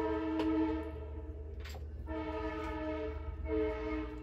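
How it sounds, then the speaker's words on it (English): A train horn blares in long repeated blasts over a low rumbling of rolling cars, fairly close and loud. "that is the train again"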